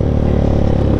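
A Rusi KRY-200 trail motorcycle idles with its exhaust submerged in river water on a rocky riverbed, giving a steady, loud, close low rumble with a bubbling, sputtering texture and no talk.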